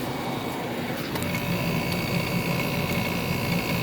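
A 2004 SoleusAir 1.5-ton ductless heat pump running in cool mode, a steady mechanical hum and whirring with faint rattling ticks, close and continuous throughout.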